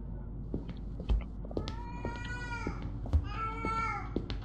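A cat meows a few times in the video game Erie, with short rising and falling cries over a busy game soundscape, with thumps and a low background hum.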